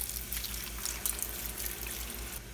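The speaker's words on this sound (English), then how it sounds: "now it's time to add our organic beef broth" Organic beef broth, 32 ounces, pouring in a steady, gentle liquid stream into a soup pot, quiet and close with a faint low hum beneath.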